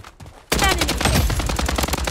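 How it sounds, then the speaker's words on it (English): Rapid automatic gunfire from a Scar rifle in the mobile shooter Blood Strike bursts in after a quiet half-second, a loud, dense stream of shots that continues to the end. "Taking fire!"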